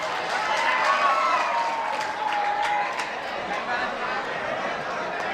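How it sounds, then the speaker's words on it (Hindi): At a mushaira poetry gathering, a crowd's applause forms a thick, steady roar of clapping, mixed with murmured chatter and voices throughout. "एक बार पुरजोर तालियां इस हसीन मुशायरे के लिए बजा दो।"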